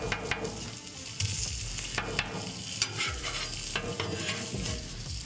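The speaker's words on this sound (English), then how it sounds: "let me get these pepperonis on really quick just so they can kind of get a little crispy" Pepperoni slices sizzle and crisp on a hot Blackstone flat-top griddle, a steady close frying hiss with occasional scraping clicks from a spatula, no talking.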